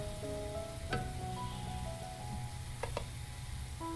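Goja pastry fries in hot oil, a steady crackling sizzle with scattered sharp pops, close and continuous.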